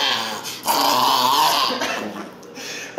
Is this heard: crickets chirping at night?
no